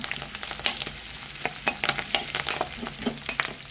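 Oil sizzling in a pan as a ridge gourd palya with curry leaves is fried and stirred: a bright, crackling hiss with frequent sharp spatula taps, close and steady, with no voices.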